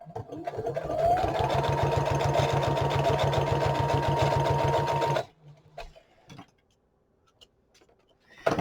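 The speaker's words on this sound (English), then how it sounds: "I'm just going to stitch that side down." A sewing machine runs steadily for about five seconds, stitching down the binding of a handmade junk journal, with a fast, even needle rhythm. It then stops abruptly, leaving near-silence and a few faint handling taps.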